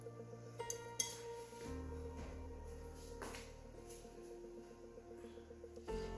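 Roasted masala spices tipped onto a big grinding stone for Goan chorizo, giving a few close clinks and knocks over a steady kitchen background, with a sharper clatter near the start and end.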